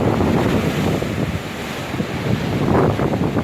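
Stormy sea waves surging against the Yalta embankment in strong wind, a loud continuous roar of surf and gusting wind buffeting the microphone, no voices.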